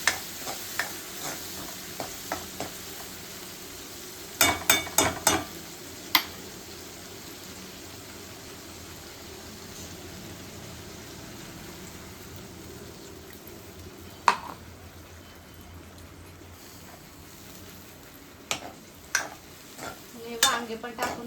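Eggplant curry frying in a pan during a rushed morning kitchen routine, stirred with a utensil: a low continuous sizzle with bursts of scraping and clinking strokes near the start and end, close by.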